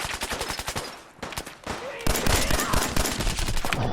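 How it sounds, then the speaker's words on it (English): Rapid bursts of gunfire in Fallout 4, dense overlapping shots with a brief lull before a louder, heavier volley in the second half. "Friends over there shooting me."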